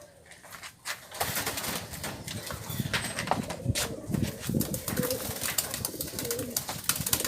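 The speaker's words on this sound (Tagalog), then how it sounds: "papakita ko naman sa inyo yung kalapati natin na si Baliling" A pigeon coos close by over a busy rustle of wings and scratching, with repeated low cooing throughout and no talking.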